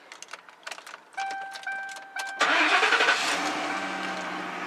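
A taxi car with remote start gives a few soft electronic chirps, then its engine cranks and catches, settling into a steady idle close by.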